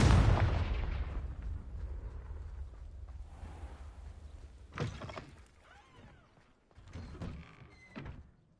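Confringo fire spell from the video game Hogwarts Legacy, with a sharp blast at about five seconds and another burst of impacts near seven to eight seconds, following a loud rumbling hit at the start.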